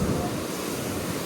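Steady seaside wind roars and buffets the microphone at a beach near Kadalundi and Chaliyam, a constant broad rush with surf-like wash and no talk.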